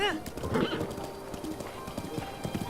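Hooves of a royal white stallion clip-clopping in Breath of the Wild, a brisk steady gallop rhythm close up, opening with a whinny, with someone talking over it.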